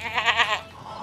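Sheep bleating, a few wavering cries in quick succession, fairly close and clear, followed by a softer trailing call with no talk.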